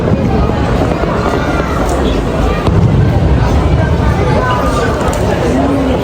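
A dense, continuous crackle of fireworks pops and bangs throughout, loud and busy, with faint voices mixed into the noise, at the Sumidagawa Fireworks Festival.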